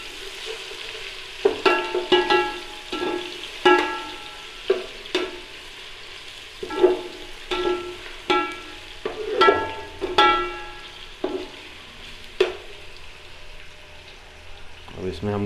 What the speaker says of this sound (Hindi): अब इसमें हम लोग अदरक और लहसुन का जो पेस्ट है वो डाल देंगे। इसको अच्छी तरह से मिक्स कर लेंगे इसमें